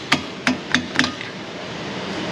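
Four sharp metallic hammer strikes ring out in quick, slightly uneven succession on the front end of a Ford Mustang GT with a 4.6 engine, near a tweaked brake backing plate, then a steady garage hum.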